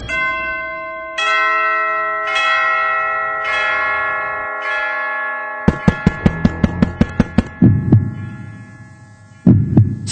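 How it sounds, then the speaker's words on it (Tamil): Doorbell ringing in a Tamil horror story narration, long sustained bell-like chimes with a hum, followed by a rapid series of sharp pulsing beats like a pounding heartbeat, loud and alone with no talking. "காலிங் பெல் சத்தத்தை"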